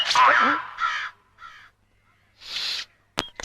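A crow caws loudly and close by, four harsh calls in a row with short gaps, followed by a couple of sharp clicks.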